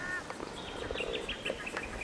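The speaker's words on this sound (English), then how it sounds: "Some ducks around the corner," Ducks on a lake in Gippsland, Victoria, Australia call faintly from a distance, heard as a few soft squawks and quacks over a quiet outdoor background.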